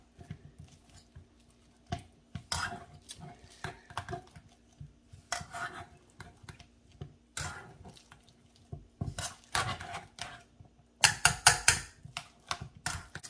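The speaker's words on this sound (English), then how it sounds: "we're just gonna keep mashing this up" Avocados for chunky guacamole get mashed in a bowl with a small amount of tomato, giving repeated wet squelching and scraping strokes in irregular bursts, close and fairly quiet, with no voices.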